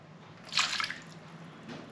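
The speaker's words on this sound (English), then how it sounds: "I'll just take a ladle and pop that in there." Water is ladled into a roasting pan holding a gammon joint, a brief close splash and pour followed by a softer second trickle.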